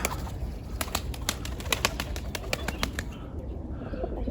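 Tumbler pigeons bursting out of a coop, their wings clapping in a quick series of sharp flaps at close range, with faint coos and outdoor ambience around them.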